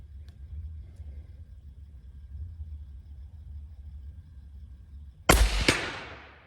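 A single 25x47 rifle shot cracks out loud and sharp after several seconds of low outdoor rumble, followed by a quick second report or echo and a long decaying tail.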